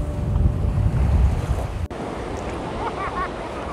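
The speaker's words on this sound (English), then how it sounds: "This is a beautiful beach." Waves washing onto a beach in Kihei, Maui, near Wailea, heard as a continuous rolling surf wash mixed with gusty wind buffeting the microphone, fairly close and with no voices.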